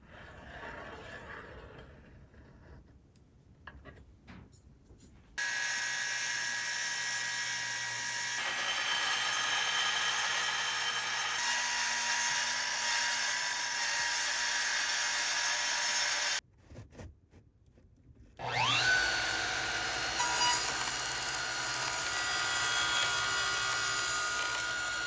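A power tool cuts wooden boards for storage shelving in a DIY kei-size camper van, running in two loud sustained bursts separated by a brief pause, with no talking.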